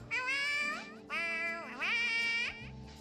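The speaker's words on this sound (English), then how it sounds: "That's clearly the sound of a cat." A cat in the Honkai: Star Rail video game meows three times in a row, each call long, drawn-out and plaintive, clear and prominent with a brief pause between them.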